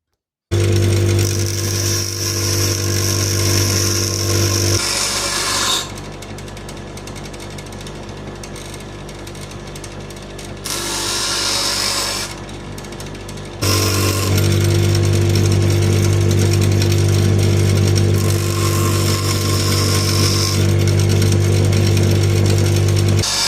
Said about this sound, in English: Okay, I'm going to use the table grinder and just do a quick job on that and see how that looks.